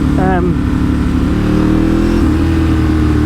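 A motorcycle with a loud, throaty aftermarket exhaust that is not street legal rumbles and revs up close, its engine note climbing steadily as a voice talks briefly over it.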